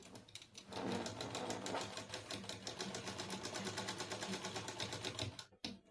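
A sewing machine runs steadily, stitching over fabric during a sewing lesson, with a fast even needle clatter close by that slows and stops near the end.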